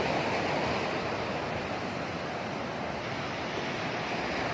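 Steady roar of sea waves washing onto a resort beach, loud and continuous with a windy hiss across the whole stretch, no voices present.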